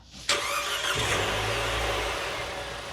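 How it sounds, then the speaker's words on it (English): A Nissan car engine cranks and catches sharply, then settles into a steady, loud idle with a low rumble close by, with no talking. "Now we're gonna just go ahead and jump in and turn on the vehicle and let it idle for 15 minutes"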